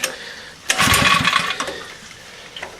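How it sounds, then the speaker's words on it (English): Portable generator engine, hot and needing choke, cranks and briefly catches with a loud burst of engine noise that sputters and dies within a second, followed by faint fading knocks. "No way, it needs a choke to start now."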